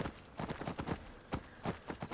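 Horse hooves clip-clop in a steady, rhythmic gait in the Skyrim video game, near and clear, with a dozen or so distinct footfalls and no talking.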